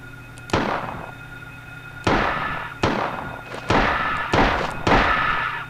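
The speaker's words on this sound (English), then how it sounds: "Now I'm gonna shoot him in the face." Gunshots are fired at a monster in the video game Silent Hill, five or six sharp, loud bangs spaced about a second apart over a steady low hum.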